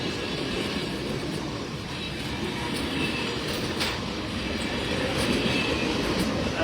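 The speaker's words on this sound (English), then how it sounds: "These are all old Union Pacific passenger cars, probably from the 40s and 50s." Old Union Pacific passenger cars from the 1940s and 50s, one with a carved-out dome, roll past in a steady loud rumble with faint rhythmic clatter, continuous and close throughout.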